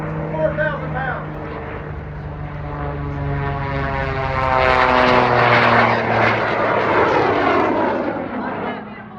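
An airplane with a Pratt & Whitney 985 radial engine flies past at an air show in Oshkosh, Wisconsin, its loud droning propeller growl swelling as it nears and then easing slightly.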